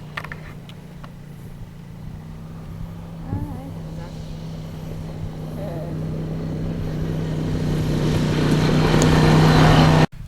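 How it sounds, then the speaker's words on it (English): A small motorbike engine hums and slowly swells louder as it draws near on a countryside track in the Yorkshire Dales, with faint voices and background noise underneath. "He's just taking tiny little motorbike through"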